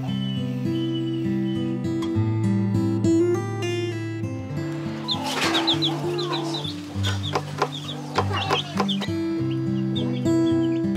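Chickens and chicks clucking and peeping inside a dirt-floored living room of a remote village house, scattered near calls heard under loud, continuous music.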